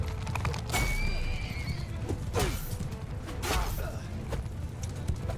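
Horse neighs and whinnies with clip-clopping hooves amid a medieval battle in Mount & Blade II: Bannerlord, several loud whinnies over a steady dense background of galloping and fighting.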